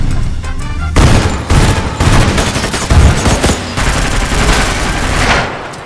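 Rapid bursts of gunfire in a film shootout with an arms dealer, loud and close, dense overlapping shots repeating in clusters across the whole stretch with no talk.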